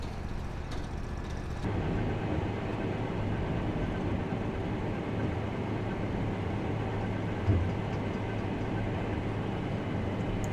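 Pumps and a welder run near a combine, producing a continuous, even mechanical drone with a low rumble that holds steady throughout.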